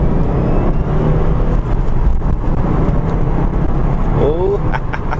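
A 2007 Subaru Impreza WRX 2.5 pulls away and accelerates, its engine note rising steadily as a loud, continuous interior drone. A brief upward whine comes near the end, and someone talks over it.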